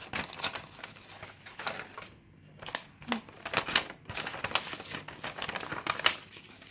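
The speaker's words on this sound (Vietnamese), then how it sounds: "Nó sẽ có một cái tờ giấy hướng dẫn sử dụng cho các bạn." A paper instruction sheet for a Q&Q HS-43 stopwatch is handled close by, with irregular crinkling and rustling bursts and brief pauses throughout.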